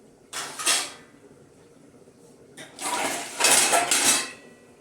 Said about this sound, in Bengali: এই দেখো রান্না করতে করতে সব বাসন ধুয়ে মুছে গোছানো হয়ে গেল